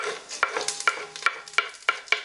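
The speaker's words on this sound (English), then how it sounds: "we can add in our other whole spices" Whole spices, dried red chilies, aniseed, star anise and cumin seeds, fry in hot oil for a Gujarati butterbean curry. A soft sizzle runs under a series of sharp, regularly spaced clinks and scrapes from a spoon stirring against the pan, all close by.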